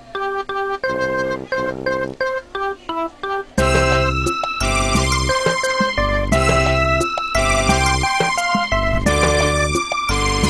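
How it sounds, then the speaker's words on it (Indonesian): MIDI tracks played back in Cakewalk Sonar, starting as a sparse, clipped synth melody and then swelling into a loud full arrangement with pounding bass notes and bright sustained chords, with no voice. "Dan yang Anda dengar ini adalah MIDI."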